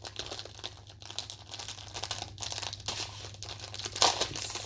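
Plastic packets of diamond painting beads being opened, a steady close crinkling and rustling of thin plastic with small tearing and rattling bursts, ending in a sharper crackle near the end, over a low background hum.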